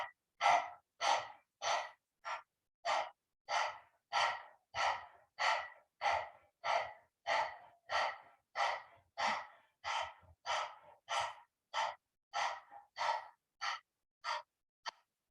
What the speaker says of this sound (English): Sticking the tongue out and panting like a dog.